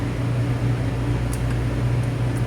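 A small stand mixer whirs steadily through a double batch of white cake batter, with a constant low motor hum and a few faint ticks of the beater against the bowl.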